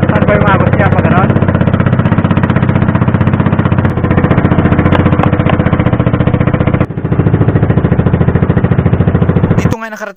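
A small fishing boat engine chugs loudly and close by in a fast, steady putter at sea off Bolinao, Pangasinan. It briefly dips partway through before cutting off at the end.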